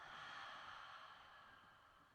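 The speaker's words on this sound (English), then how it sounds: "just exhale out through the mouth" A long, soft exhale out through the mouth during gentle yoga breathing, a quiet airy breath fading slowly, with no talking.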